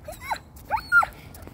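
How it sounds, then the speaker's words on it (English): A border collie whines and yelps in short excited bursts, three rising cries close by, out on a walk with faint outdoor background. "That's my dog talking."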